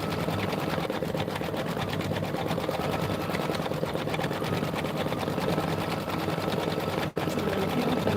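A sewing machine stitches quilting in a fast, steady, continuous chatter that runs close and unbroken for several seconds, with one brief pause near the end and no talking.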